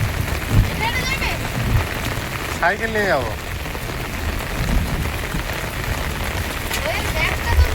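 Heavy pouring rain drums steadily on surfaces throughout, a dense continuous wash, with people talking briefly over it.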